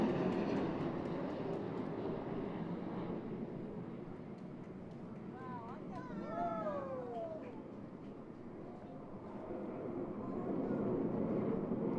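A solo jet aircraft from an airshow display team sweeps in from behind the spectator area at Pensacola Beach for an opposing minimum radius turn, a broad steady roar that swells and fades with a brief whine, heard with no talking.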